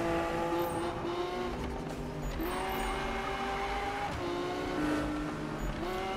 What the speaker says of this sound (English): Lamborghini Aventador time. Look at this crazy acceleration.